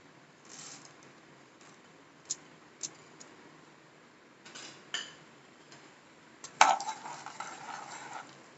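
Skinless black gram dal frying in hot sesame oil while a chutney is made, heard as a soft sizzle under scattered clinks and stirring scrapes of a utensil against the pan, with a louder burst of spatter near the end.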